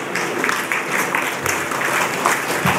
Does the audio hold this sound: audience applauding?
yes